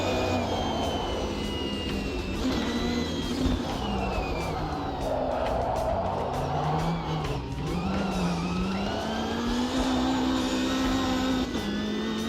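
Race car engine in the Automobilista 2 sim racing game revving and swooping up and down through the gears with tyre noise, loud and continuous with no talking.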